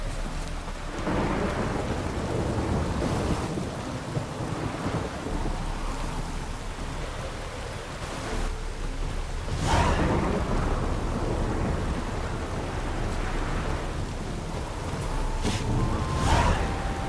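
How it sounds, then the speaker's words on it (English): A thunderstorm in The Witcher 3: Wild Hunt, with constant rain hiss broken by several loud cracks and rolling booms of thunder spaced through the scene. "The storm, damn it."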